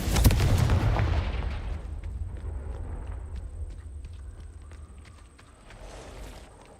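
A fiery Confringo blast spell in Hogwarts Legacy bursts loudly at the start as a deep booming impact, then rolls into a long fading rumble with scattered faint clicks and a thin high ringing tone.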